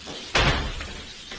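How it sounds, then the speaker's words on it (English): A front door bangs open with one sharp, fairly loud thud and a brief rattle, then a quiet ring-out with a faint second knock. "The front door creaked open."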